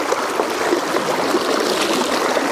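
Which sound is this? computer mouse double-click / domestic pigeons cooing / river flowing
river flowing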